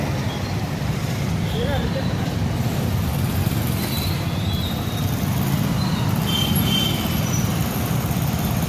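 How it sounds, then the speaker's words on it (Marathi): Steady road traffic hums along the main road through Latur city, a continuous rumble of passing vehicles with occasional faint horns, heard at moderate distance. "तुम्हाला लातूरची ट्रॅफिक पण बघायला भेटेल."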